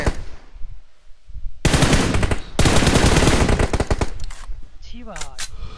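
Rapid bursts of automatic gunfire from a BGMI battle royale match, loud and sustained in two long volleys after a brief pause, with a few scattered shots trailing off at the end.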